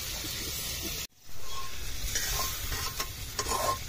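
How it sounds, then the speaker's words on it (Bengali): Prawns frying in a pot on a boat in the Sundarbans, stirred with a bowl instead of a spatula; a steady sizzle resumes after a brief dropout, with repeated scraping strokes. "বাটি দিয়ে চিংড়ি মাছ ভাজা হচ্ছে"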